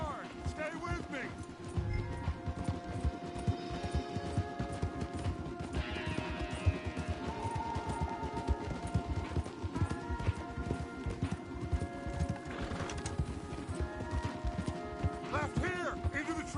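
Horse hooves pound in a rapid, continuous gallop in Red Dead Redemption 2, with rattling gear, music and occasional voices layered over the running rhythm.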